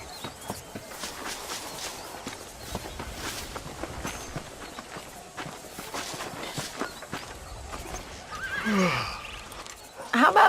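Horses in the Red Dead Redemption video game clop along with steady hoofbeats while voices talk quietly over them, then a loud whinny rings out near the end.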